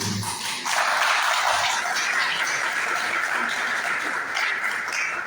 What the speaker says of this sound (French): Nous, entre nous étudiants, entre nous étudiants anciens, applaudissez, c'est vrai.